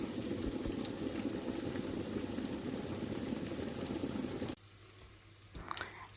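Steady sizzling and bubbling of food frying in a pot, a dense crackling hiss that cuts off abruptly, leaving a quiet hum and faint clinks.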